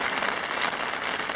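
Rain falls at a wilderness campsite in cooler, windy weather, a steady close patter on surfaces with no voices.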